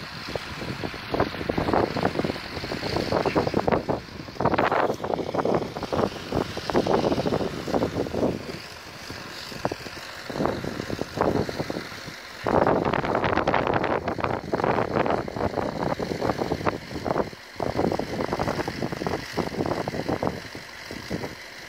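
Strong winter wind gusts across an outdoor park, buffeting the microphone in loud bursts with brief lulls between them.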